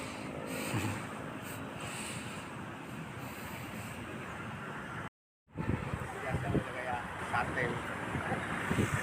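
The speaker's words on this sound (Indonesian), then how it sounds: "Anginnya kencang banget ya." Strong gusty wind roars steadily across an outdoor kite-flying contest, a broad buffeting rush close to the microphone, with a short dropout midway and people talking intermittently beneath it.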